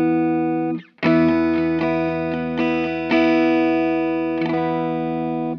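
Electric guitar through a DOD Ice Box chorus pedal in a boomy, bass-heavy mode strums a chord, briefly cuts out, then rings on with a series of sustained, slightly dull chorused notes, near and steady, no speech.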